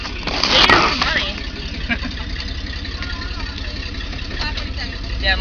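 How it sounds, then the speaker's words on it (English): A pickup truck with its muffler fallen off idles loudly and roughly, a deep continuous rumble with steady pulsing throughout, close to the microphone while people talk nearby. "my muffler fell out from under my truck today"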